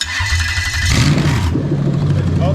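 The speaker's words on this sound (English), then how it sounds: "it's going to become very loud when I start the engine up" Engine start on a Lexus LS430 with the 3UZ-FE VVT-i V8, right-hand-drive manual: a cranking whir gives way to a loud catch and settles into a steady, deep idle close by, with no talk.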